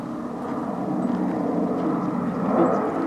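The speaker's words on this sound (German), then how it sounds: "Zwei Motoren, ein wunderbarer Ton, man hört ihn jetzt" A distant twin-engine Douglas A-26 Invader drones steadily over a Swiss mountain, swelling slightly louder toward the end as the plane passes; no talking.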